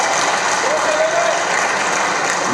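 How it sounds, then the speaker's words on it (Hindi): A crowd at a government launch event applauds those on stage, a continuous, even wash of clapping with no break or fade across the short stretch. "जोरदार तालियां बजा पूरे"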